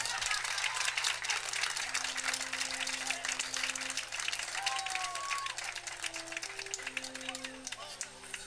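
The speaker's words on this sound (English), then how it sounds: "All right, round of applause." Crowd at a baseball game between the New Market Rebels and Strasburg Express claps and cheers outdoors, steady scattered applause with background voices and some sustained tones running beneath it.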